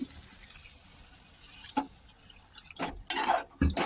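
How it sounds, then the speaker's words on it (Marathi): Water splashes into a pan of potatoes in a few short, uneven pours toward the end, following a quieter stretch of faint background noise. "आता आपल्याला याच्यात पाणी टाकून शिजवायची बटाटे"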